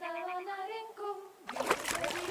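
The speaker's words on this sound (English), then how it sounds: "Throw a stone in the water near her to lure her away." A stone splashes into water in the video game Kingdom Come 2; a brief, bright splash arrives after a sustained tonal hum, fairly close and alone.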